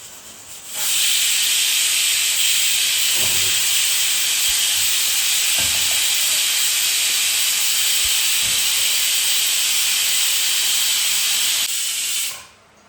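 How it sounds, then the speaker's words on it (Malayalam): A pressure cooker of ghee rice hisses its whistle as a loud, steady, continuous jet of steam, close by and alone, that lasts about eleven seconds and then cuts off. "അപ്പോൾ നമ്മൾ ഗീ റൈസ് വിസിൽ വരാനായിട്ടുണ്ട് കേട്ടോ"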